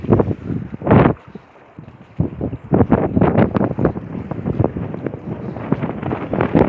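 Wind gusts across open water while fishing off the sea at Jeddah, a steady rushing roar with bursts that rise and fall close to the microphone, heard alone without talk.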